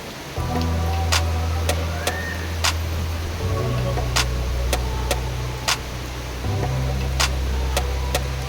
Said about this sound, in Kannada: ಸೊ ಸಂಜೆ ಆಗ್ತಾ ಆಗ್ತಾ ಸಡನ್ನಾಗಿ ಮಳೆ ಹಿಡ್ಕೊಂಡ್ಬಿಡ್ತು